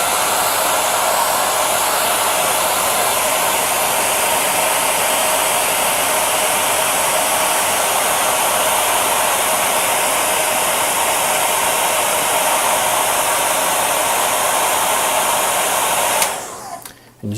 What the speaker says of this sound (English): I'll get my hairdryer all ready and start applying some heat.